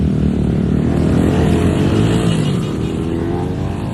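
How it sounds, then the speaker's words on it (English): Street traffic in Zapopan, Guadalajara, Mexico: a continuous close roar of cars and motorbikes passing and accelerating, steady and loud throughout, with no voices. "Look at this traffic chaos."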